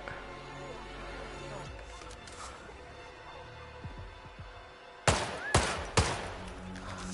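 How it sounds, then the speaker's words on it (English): A single gunshot-like crack, then a couple more sharp reports in quick succession, outdoors against steady wind and background noise during a bird shoot, fairly distant. "It was a gunshot, I think."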